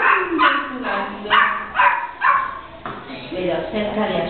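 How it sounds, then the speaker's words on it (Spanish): A small, playful dog yips and barks in quick bursts, roughly six short barks in a row, close and clear, followed by softer whimpering sounds. "un perrito juguetón que me saluda ladrando y jugando"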